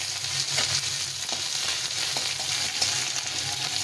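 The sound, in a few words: onions frying with panch phoron spices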